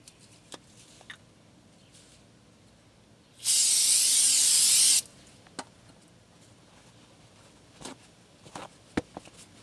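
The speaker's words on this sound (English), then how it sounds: "We're just gonna spray it real quick just to kind of cut the oils off." Aerosol auto body cleaner sprayed onto brake parts during a brake job on a 2014 Chevrolet Cruze: one steady loud hiss lasting about a second and a half, close, amid faint garage clicks and quiet, no talking.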